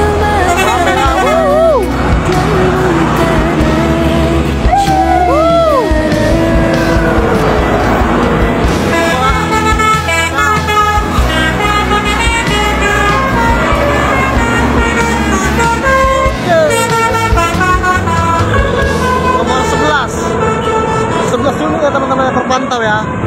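Busy road scene with Barumun bus number 5 carrying Hajj pilgrims rolling past amid other traffic, horn toots and engine rumble over constant crowd chatter and voices throughout, fairly loud and close.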